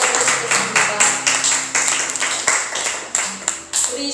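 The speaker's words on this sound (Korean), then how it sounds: "우리 예배를 받으신 하나님께 감사의 박수를 올려드리겠습니다" A youth church congregation claps together at the close of a worship service, a loud, strongly rhythmic run of unison claps in a steady beat over quiet background voices.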